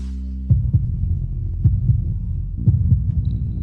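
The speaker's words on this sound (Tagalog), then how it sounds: "Kapag binanggit lang si Diego, bumibilis ang tibok ng puso mo." A fast heartbeat sound effect in a dramatic scene: deep, close, loud thumping pulses in quick doubled pairs that repeat steadily over a low hum, with no voices.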